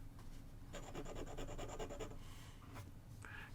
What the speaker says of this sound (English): It's a little bit of a feedback. I wouldn't say exactly scratchy, but it's not super smooth either.